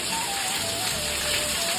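Heavy monsoon rain falls steadily with a dense, even hiss of drops striking surfaces close by, continuous and loud throughout, with no voices.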